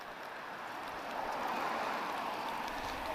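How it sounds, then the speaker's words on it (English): A strong rain shower falls at Lisbon Airport while the sun shines, a steady broadband hiss of rain that swells slightly partway through, with no talk over it. "I'm stood in the sunshine, but it's raining."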